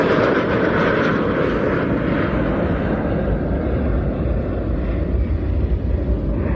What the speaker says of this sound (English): flat out, full reheat